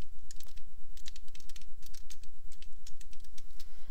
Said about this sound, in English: I'm just going to type a note.